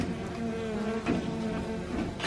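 Honeybees flying in and out in front of a beehive make a steady, close buzzing hum with faint wingbeat drones drifting past.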